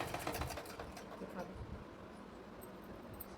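A sewing machine stitches a petticoat hem, rattling faintly in quick rhythmic bursts at the start and then fading to a quieter whir.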